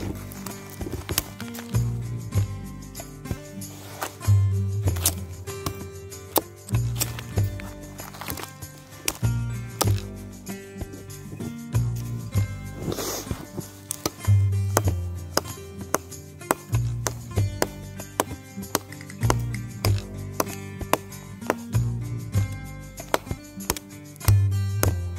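A Cold Steel Trailmaster knife chops through branches outdoors with repeated sharp, close blade strikes in a steady, irregular rhythm, the thwacks continuing throughout.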